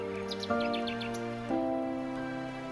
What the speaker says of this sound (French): Au loin, le chant des oiseaux.